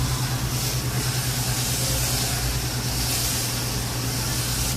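Continuous hissing spray of water onto a broiler catalyst being cleaned, steady and loud throughout with a low rumbling undertone.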